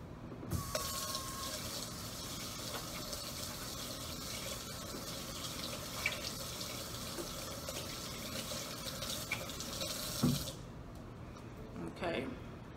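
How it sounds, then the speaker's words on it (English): Running water from a tap gushes steadily as hands are washed at a sink, a close, continuous flow that cuts off near the end with a few faint handling sounds. "Let me wash my hands."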